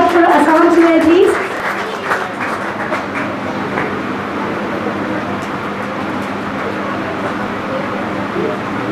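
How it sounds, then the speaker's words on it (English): At a school prize distribution, a crowd gives sustained applause for an award winner, a steady clattering wash of clapping following a brief announcing voice at the start. "Huge round of applause for Asaham Suhail, please."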